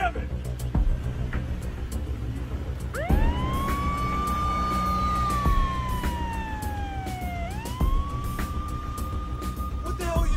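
A police car siren wails in long rising and falling sweeps, steady and fairly close, over background noise and scattered clicks.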